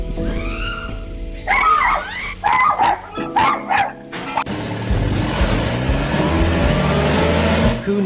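A house dog guarding against giant lizards lets out a rapid run of sharp barks and yips, close and loud, before a constant broad roar like a passing engine takes over.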